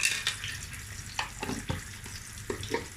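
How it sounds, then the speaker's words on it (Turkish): Köfte meatballs frying in a pan on a home stove, a steady close sizzle and crackle with a few louder spatters and clinks of stirring scattered through. "Köfte kızartıyorum."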